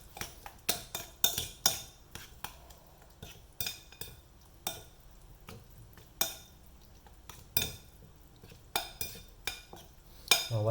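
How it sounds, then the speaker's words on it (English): Spoon or fork mixing and mashing roasted aubergine with tahini in a bowl for baba ghanoush, a close sequence of irregular clinks and scrapes against the dish with soft squelching between. "I'm going to give it a mix and continue mashing."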